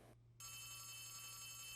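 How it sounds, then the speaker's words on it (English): A telephone in a video game starts ringing after a short silence, a steady electronic bell tone that holds continuously at moderate level with no talk over it. "The phone is ringing."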